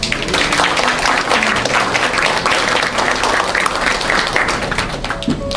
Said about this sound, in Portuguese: uma salva de palmas para o poeta Moacir Félix